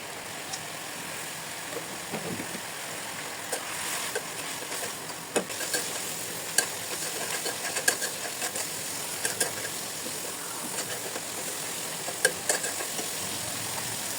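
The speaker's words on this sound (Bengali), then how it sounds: "মরিচের গুঁড়া, হলুদের গুঁড়া, জিরার গুঁড়া, লবণ পরিমাণ মতো দিয়ে কষিয়ে নেব।" Chili, turmeric and cumin powder with salt sizzle steadily in a pan while being sautéed, with scraping stir strokes and small clinks throughout, fairly close and continuous with no talking.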